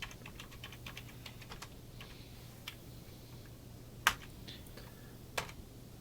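Steady typing on a computer keyboard that has been damaged by a spill, with quick, light key clicks and a few sharper louder taps, heard close up with no talking.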